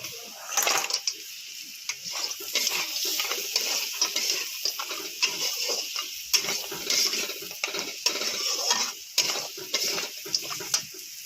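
Potatoes and lentil dumplings stir-fried in a pan, with a sizzling hiss broken by frequent scraping and clinking of a spatula against metal in an irregular stirring rhythm, close and fairly loud.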